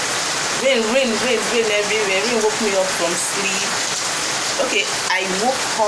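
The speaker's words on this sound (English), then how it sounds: "Rain, rain, rain, rain everywhere." Steady rain falls everywhere around an apartment, a constant wash of droplets hissing loudly throughout while someone talks over it.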